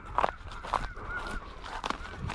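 Snow geese on an Alberta spring hunt give repeated honking calls, several loud bursts spaced through the moment over a steady background murmur of birds.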